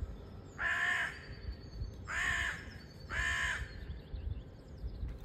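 Crows give three loud, harsh caws spaced about a second apart, nearby, over a low outdoor rumble.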